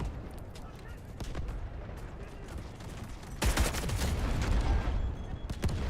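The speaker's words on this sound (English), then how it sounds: "Every single time I come around here, it's just nothing but gunfire." Distant gunfire crackles across a video game map in scattered shots, then a louder, denser burst of rapid fire erupts midway and keeps going.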